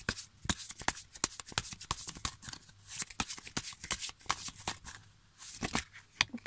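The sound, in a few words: tarot cards being shuffled and drawn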